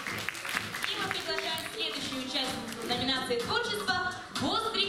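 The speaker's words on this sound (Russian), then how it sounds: "Поддержали аплодисменты." An audience at a children's awards event applauds a nominee in the creativity category, steady dense clapping lasting the whole clip with music and tonal sounds mixed in.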